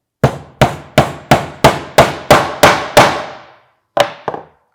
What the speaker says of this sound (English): hammer in that final nail.